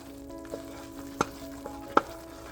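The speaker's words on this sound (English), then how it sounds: "Give it a good stir." Poha halwa of parched rice roasted in ghee with cardamom powder being stirred in a pan, a soft steady sizzle broken by a few sharp scrapes and clicks of the spoon.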